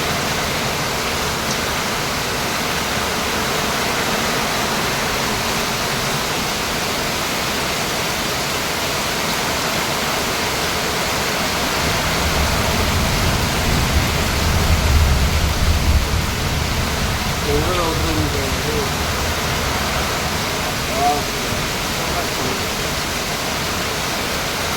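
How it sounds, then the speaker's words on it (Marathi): Heavy morning rain pours in a dense, steady hiss, with a deeper rushing swell midway and faint scattered sounds on top. "खूप खतरनाक पाऊस पडतो खूप"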